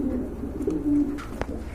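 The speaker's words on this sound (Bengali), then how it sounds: "এখানে কিন্তু একজোড়া আফসান ডিজেল কবুতর দেখতে পাচ্ছেন" A pair of large Afsan diesel pigeons give close, low, drawn-out coos, with a soft thump partway through and no talking.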